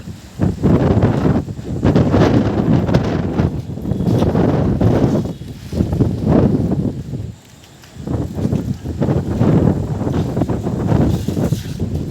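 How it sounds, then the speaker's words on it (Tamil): Strong, gusty wind from a rainstorm in Sengundram, Tiruvallur district, buffets the microphone in a loud, continuous roar with brief lulls, alone without speech. "நிற்க முடியல, சரியான காற்று."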